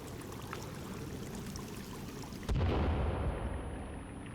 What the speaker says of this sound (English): Let's try this type of holy hand grenade.